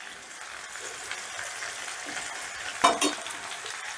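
Fried rice with chicken, egg and shrimp is stirred in a pan over a low, steady sizzle, with two quick scraping clatters of the spatula near the end.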